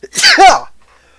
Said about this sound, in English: Oh boy, I'm about to sneeze.